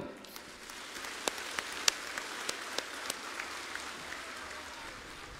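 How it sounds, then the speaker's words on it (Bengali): An outdoor crowd at a BJP campaign rally in Bankura claps to welcome Suvendu Adhikari onto the stage, a soft, scattered patter of applause with a few sharper individual claps, fairly distant. "আমরা সবাই হাততালি দিয়ে ওনাকে স্বাগত জানাবো।"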